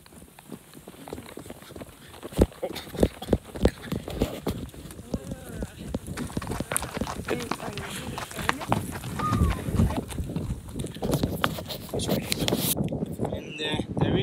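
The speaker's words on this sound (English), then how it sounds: "You've only ridden a horse once and you're already galloping." Horse hooves clip-clopping steadily on a trek near Song Kol Lake in Kyrgyzstan, a dense ongoing rhythm of close hoofbeats with a voice talking over it.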